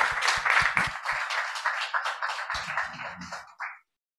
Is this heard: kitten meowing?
no